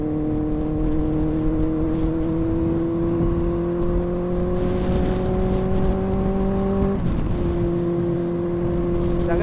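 Benelli 600i motorcycle riding on an open road, its engine holding a steady, loud drone with harmonic whine that rises gradually, dips briefly around a gear change near seven seconds, then continues, with wind rush underneath.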